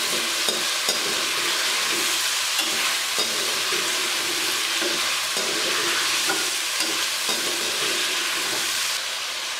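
Coarsely chopped onions frying with chicken in a pan for biryani give a constant bright sizzle and hiss with occasional stirring scrapes and clicks, close and fairly loud throughout, with no speech.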